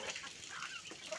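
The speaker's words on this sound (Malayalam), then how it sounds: "അഴിച്ചുവിട്ട് വളർത്തുന്ന നാടൻ കോഴികളും കുഞ്ഞുങ്ങളും" Free-range country chickens and their chicks on a farm in Kannur district give faint, short clucks in a brief burst.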